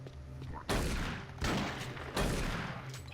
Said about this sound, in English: How come his pistol sounds better than my shotgun?